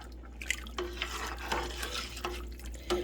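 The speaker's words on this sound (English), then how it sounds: "I gotta stir it." A pot of mixed vegetables (carrots, green beans, corn and peas) being stirred, soft scraping and clinks of a spoon against the pot repeating every second or so over a low background hum.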